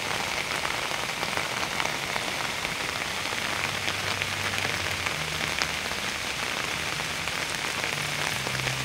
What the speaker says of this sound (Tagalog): Parang ulan talaga mga kailaw rito sa amin.